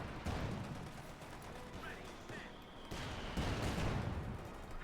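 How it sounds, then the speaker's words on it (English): Sustained gunfire rattles from a Company of Heroes 2 battle between German OKW and US forces, a dense mix of rifle and machine-gun bursts with occasional heavier blasts, continuous and fairly loud, swelling near the end. "Lots of firing here, Victor."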